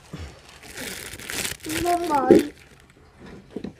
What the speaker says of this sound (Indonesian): Yuk masukin dalam plastik.